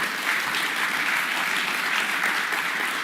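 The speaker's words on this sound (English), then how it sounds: "give Mayor Bibb and the city of Cleveland a round of applause for their work" Audience at a media event in Cleveland applauding Mayor Bibb and the city, a dense, loud, continuous round of clapping from a full room that stays steady throughout.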